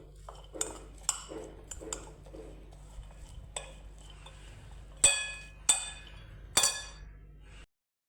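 A utensil stirs a sprout salad with lemon juice and coriander in a bowl. Soft scraping comes first, then a few sharp metallic clinks against the bowl ring out clearly near the end before a sudden stop.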